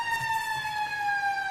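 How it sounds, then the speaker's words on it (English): Jefferson Fire Department fire engine sirens wailing loudly and steadily at a Charleston Christmas parade, a continuous sustained tone close by with no talk over it. "if you can hear those sirens coming up right behind this dance troupe"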